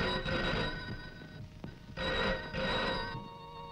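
A telephone bell rings in two loud bursts separated by a brief pause, close and clear with no talk over it.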